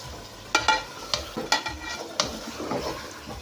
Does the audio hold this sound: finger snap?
no